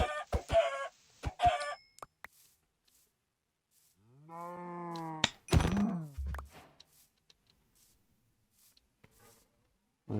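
Chickens cluck in Minecraft in short, separate bursts, with a longer drawn-out moo and a few sharp game sounds in between, all set against near silence.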